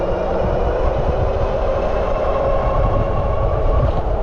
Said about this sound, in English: Let's see how fast can that front motor go.